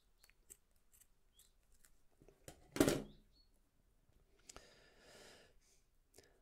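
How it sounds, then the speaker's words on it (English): Scissors snip through fishing line tag ends on a handmade jig assist hook, a single sharp cut with a brief rustle near the mic, then quiet handling noises and a soft breathy sound afterward. "So now what I can do is just trim those tag ends down, leaving a bit."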